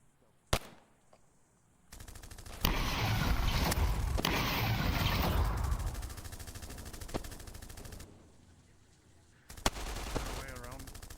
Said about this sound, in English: I'll open fire then